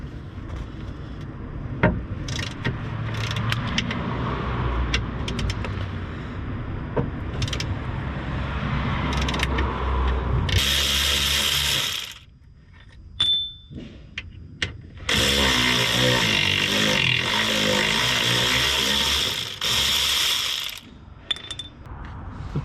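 Bolts on the bush clamp of a Fiat Panda 4x4 anti-roll bar are undone with a hand ratchet, giving close, loud bursts of rapid clicking and metallic rattling, separated by short pauses and with no talking.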